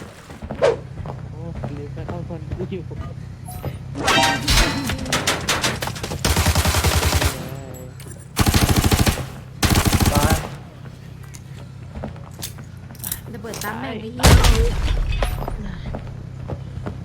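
Bursts of automatic gunfire in Arena Breakout, loud and sharp in several separate volleys between quieter stretches where players talk.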